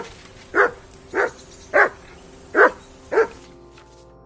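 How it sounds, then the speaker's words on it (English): A dog in the medieval video game Kingdom Come 2 barks five times in a steady, evenly spaced series of short, sharp, close barks with no talk over them. "Call that dog to heel!"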